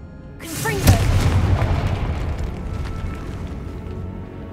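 Confringo fire-blast spell from Hogwarts Legacy goes off with a sharp booming burst, then a long rumbling roar that slowly fades, loud and close.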